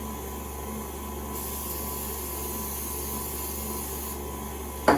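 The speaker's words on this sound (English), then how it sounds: "we're going to spray each of the loaf pans with cooking spray" A steady hiss of cooking spray coats loaf pans for several seconds over a low background hum, shifting slightly in tone partway through.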